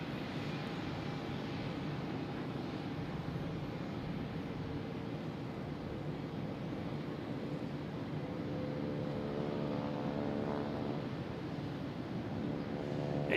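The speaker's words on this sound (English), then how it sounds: "We have JetBlue taking off to JFK in A220." A JetBlue Airbus A220 jet taking off for JFK from Boston Logan roars steadily from a distance, its engine hum holding level before a whining tone builds and grows louder in the final seconds.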